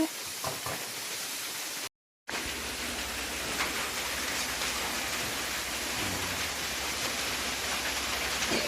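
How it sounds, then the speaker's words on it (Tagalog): Steady rain pours down in a continuous broadband hiss, close and fairly loud, with a brief silent gap near the start and no talking. "Nag-ulan pa gihapon."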